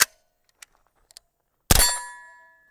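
A suppressed PSA JAKL-9 rifle fires a single shot of supersonic AAC ammunition, a sharp loud crack with a ringing tail, preceded by faint clicks and handling taps.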